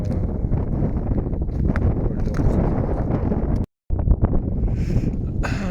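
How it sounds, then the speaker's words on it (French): A cold wind blows hard across the microphone on an Alpine mountain trail near the Beaufortin, with continuous loud buffeting and rumble, broken by one brief gap of near silence. "Le vent est froid, c'est pas dangereux"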